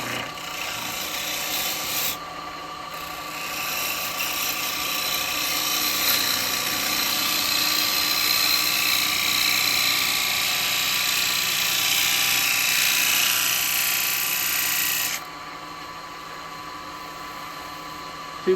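Bowl gouge cutting into an ash bowl spinning on a wood lathe: a steady, loud rasping hiss held for about fifteen seconds before easing off, over a constant lathe hum, with no talking.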